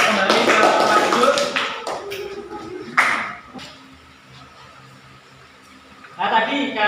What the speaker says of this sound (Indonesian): Tepuk tangan untuk masing-masing kelompok